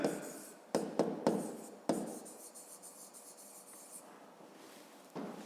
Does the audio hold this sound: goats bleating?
no